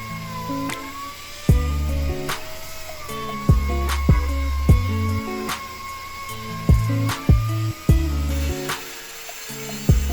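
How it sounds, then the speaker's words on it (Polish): A pneumatic sander smooths slices of wood cut from a tree trunk, giving a steady close-up whine broken by repeated rougher bursts as the pad presses against the wood. "potem szlifuję jeszcze szlifierką pneumatyczną"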